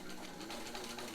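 A home sewing machine with a potted motor runs steadily, stitching through a thick leather belt loop in one continuous, close mechanical whir with no pauses.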